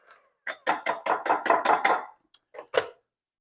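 Sliced vegetables with red onions and black olives are stirred together, giving a quick run of about eight sharp clattering knocks, followed by a brief pause and a few more scattered clacks.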